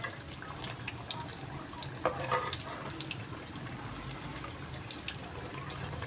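Aloo pakoras deep-fry in hot oil, a soft, bubbling crackle with scattered light pops, steady and moderately quiet throughout.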